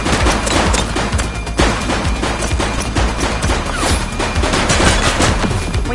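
Dense, continuous gunfire from a suspect in a police shootout, loud rapid overlapping shots filling the whole stretch with no voices.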